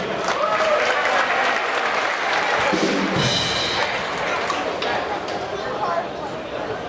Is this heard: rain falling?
no